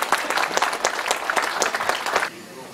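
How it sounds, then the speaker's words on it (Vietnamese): Audience applause at a community gathering in Montreal, a dense burst of clapping from many hands that fills the room, then cuts off abruptly near the end, leaving quiet room tone. "chúng tôi xin quý vị một tràng pháo tay"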